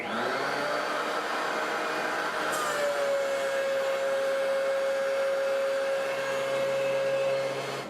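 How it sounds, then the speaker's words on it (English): A thickness planer fitted with a helical cutter head feeds a mahogany board, producing a loud, continuous whirring roar with a steady whine that settles in partway through. "first test of the new cutter head in the planer. I'm going to throw this board of mahogany through there"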